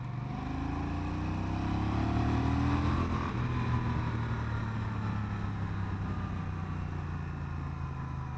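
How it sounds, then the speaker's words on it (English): A Honda Rebel 1100 cruiser gives off a deep exhaust rumble while riding. A continuous low drone rises slightly in pitch early on, then settles into a steady throb mixed with wind noise. "I hope you guys are hearing that exhaust"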